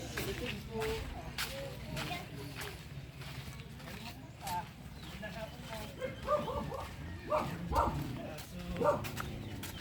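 A small dog yips and barks repeatedly amid chatter and background noise on Calaguas Island, the barks growing more frequent toward the end.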